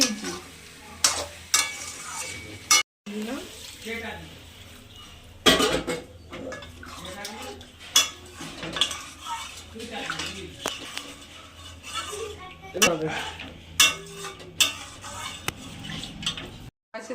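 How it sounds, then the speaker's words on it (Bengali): Shrimp sautéing with green chili paste in a pan, with soft sizzling under repeated spoon scrapes and clinks against the cookware, interrupted by a few brief pauses. "চিংড়ি মাছটাও দিয়ে আবার একটু কষিয়ে"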